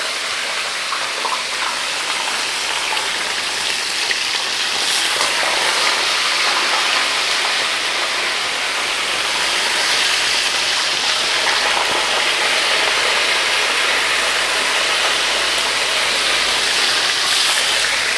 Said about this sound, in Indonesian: ini kalau goreng ikan nih minyak harus benar-benar panas ya